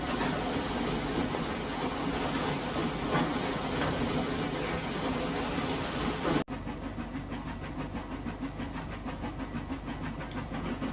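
A steam train in the Trainz railway simulator arrives at Robson station in a 1901 setting, giving off a continuous loud hiss and rumble that cuts to a softer, faintly pulsing chuff partway through.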